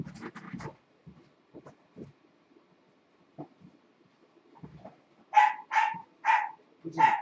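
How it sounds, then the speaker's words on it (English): Several dogs bark at a house as someone arrives home, with a quick run of four loud barks near the end after scattered fainter yips and muffled sounds earlier. "That's why the dogs are going crazy."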